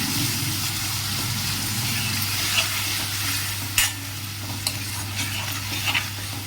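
Curd being stirred into a mushroom and brown rice pulao mixture in a pan, a soft continuous sizzle with a low hum beneath and a few sharp spoon clinks toward the end.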